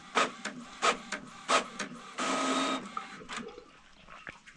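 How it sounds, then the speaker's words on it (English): Ink printer running a test page, with bursts of clattering print-head passes and paper feed, a longer steady whir in the middle, then quieter mechanical shuffling, close by with no talk. "We're going to print a test page."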